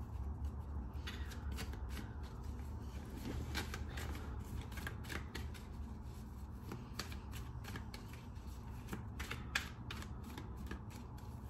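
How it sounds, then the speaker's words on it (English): A deck of tarot-style affirmation cards being shuffled and dealt close up, a quiet run of soft riffling and dense papery flicks with sharp snaps as cards are laid down, and no voices. "so I'm going to put the cards out for you"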